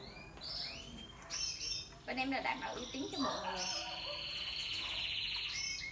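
A canary in its cage sings bright, trilling song phrases with chirps, close and fairly loud, while a person talks over much of it.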